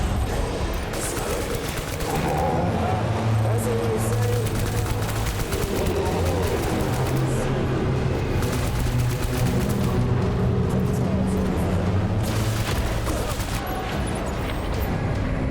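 Rifle fire and other gunshots crackle in a battle in the Death Stranding video game, a dense continuous fusillade of shots over a loud, busy game soundtrack lasting the whole stretch.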